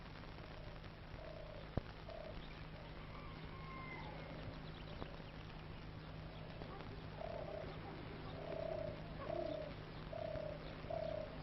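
Birds cooing in oasis gardens of olive and palm trees in Morocco, repeated soft mid-pitched coos growing louder toward the end over a low steady hum, with a few faint calls and clicks, and no talk.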